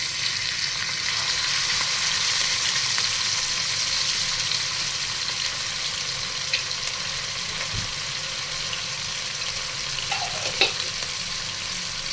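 Tomato sauce poured into a hot frying pan with onions, a steady close broadband sizzle with occasional small pops and stirring scrapes.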